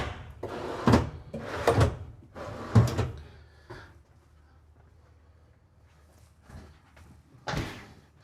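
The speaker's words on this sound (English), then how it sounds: "You got four good size drawers here for all your bathroom storage" Storage drawers in the rear master bathroom of a 2026 Newmar Dutch Star 4340 RV slide open and shut in a few close, loud bursts, with a quieter clunk after a long pause and a final bump at the end.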